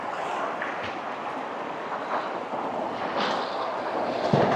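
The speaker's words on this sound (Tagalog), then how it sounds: "Masyado malakas yung lagaslas." River rapids in Laguna rush hard and constantly, a loud, dense roar of churning water with some wind buffeting against the microphone.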